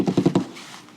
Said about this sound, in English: God, you're typing faster.